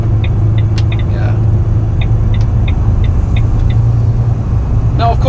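Volvo FH 500 tag-axle truck pulling uphill, a steady loud low engine drone with a constant hum throughout, faint clicking ticks and a hiss near the end, no talk.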